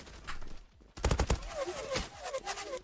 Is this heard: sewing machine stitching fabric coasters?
no